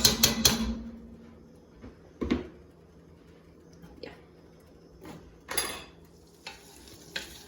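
Butter sizzles in a pot with a soft, continuous hiss, broken by a few clanks and scrapes of a utensil against metal.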